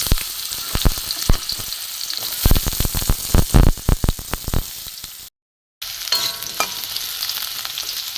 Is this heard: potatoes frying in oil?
yes